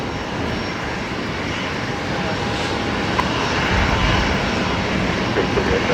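A Qatar Airways jet rolls down the runway at Brisbane Airport with a broad, steady engine roar that builds slightly, loud and continuous, heard from nearby.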